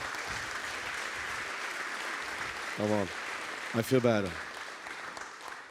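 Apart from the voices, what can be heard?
conference audience applause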